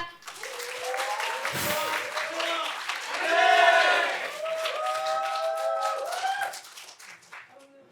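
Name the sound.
audience applause welcoming a speaker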